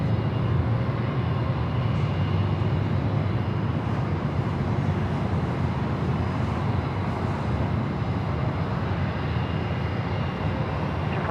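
Boeing 787 jet at Los Angeles airport, a steady broadband engine roar that holds loud and unbroken throughout, with no voices.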